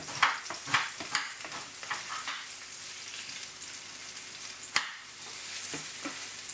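Thin pork slices frying in a hot pan for ginger pork, a steady close sizzle punctuated by sharp clacks and flips of the meat, one loud knock near the end.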